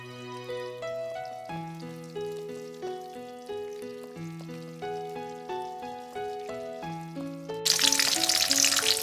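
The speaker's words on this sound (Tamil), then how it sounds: "இதுல கடுகு, உளுத்தம் பருப்பு, பச்சை மிளகாய், வரமிளகாய் போட்டு வதக்கிக்கோங்க." Mustard seeds, urad dal, green chillies and dried red chillies hit hot oil for an egg sevai tempering, a sudden loud crackling sizzle bursting in near the end after a stretch of plucked-note music.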